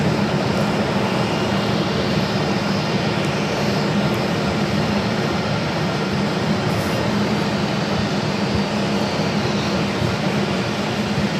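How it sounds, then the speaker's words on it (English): Airbus A320 jet airliner arriving from Santa Ana, a steady, continuous engine roar with a low hum, heard alone without talk. "320 coming in from Santa Ana."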